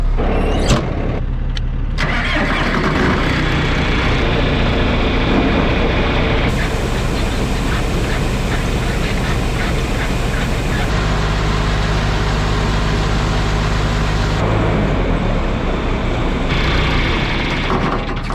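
Farm truck carrying fertilizer, a loud continuous engine drone and road rumble while driving, steady throughout with shifting tonal changes as it moves along.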